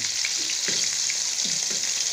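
Liver fried in bran coating sizzles steadily in hot oil in a pan, a constant close crackle with a few soft scrapes and clinks as the pieces are turned over.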